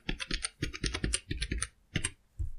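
Someone types a Wi-Fi password on a computer keyboard in a quick, close run of crisp keystrokes. A short pause comes before the final few key presses.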